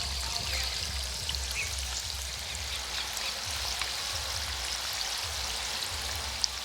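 Aloo chop, potato chops, deep-frying in a batch of hot oil, giving a steady, close, dense crackling sizzle that runs unbroken throughout with no voices.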